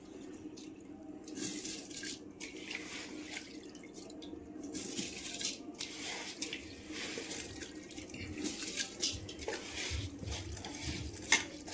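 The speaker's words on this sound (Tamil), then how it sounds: "இப்போ நம்ம அரிசியெல்லாம் போட்டுருவோம்" Rice pours and rattles into a pot of vegetable biryani on a wood-fired stove in bursts of hissing clatter, with metallic clinks and watery sloshing between them.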